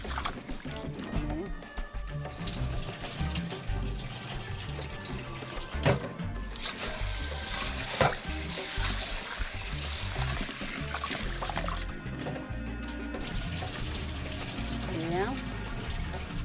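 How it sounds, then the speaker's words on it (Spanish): Rice is swished and rinsed in water, with sloshing, pouring and trickling that runs on steadily over several seconds, close by, under occasional brief speech. "uno tiene que lavar bien el arroz"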